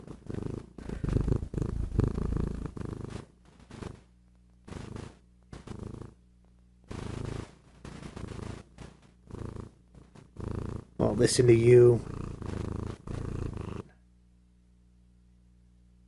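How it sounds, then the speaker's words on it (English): A cat purrs in a soft, continuous rumble close to the microphone, broken up by a person talking gently over it. "No, don't stop purring."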